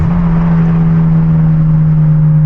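A Genesis Coupe with a manual gearbox revs hard in a tunnel after a downshift, its engine note loud, steady and droning close by, with echoing exhaust and no voices.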